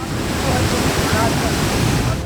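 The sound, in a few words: rushing floodwater released from Saptakoshi barrage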